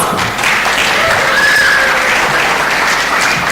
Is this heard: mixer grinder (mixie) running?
no